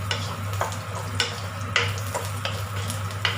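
Garlic sizzling in a frying pan, a continuous close crackle over a low hum, broken by regular scraping strokes of a utensil stirring roughly every half second.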